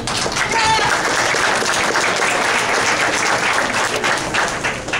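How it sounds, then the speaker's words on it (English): Sustained applause from a crowd at a college softball season celebration, dense clapping that holds steady for several seconds with a few voices mixed in. "You guys all deserve a round of applause"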